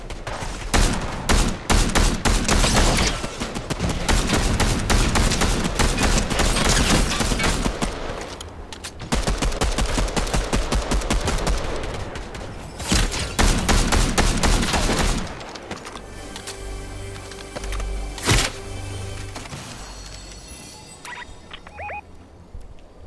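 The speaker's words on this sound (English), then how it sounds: "Shit, I'm getting shot at hard." Heavy automatic gunfire from the video game Squad rattles in long, dense bursts with sharp cracks, then thins into sporadic distant shots toward the end.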